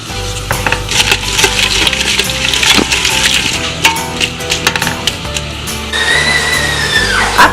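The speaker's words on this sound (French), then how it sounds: "on met tous les oignons dedans et on remue" Onions stirred in hot olive oil in a pan for chicken curry, heard as busy, continuous clattering and scraping with scattered sharp knocks from the spoon against the pan, fairly loud throughout.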